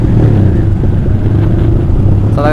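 Honda CBR150R fitted with an Austin Racing exhaust, revving loud and close, its engine roar holding a continuous deep growl with slight pulsing throughout, and a brief higher whine rising near the end.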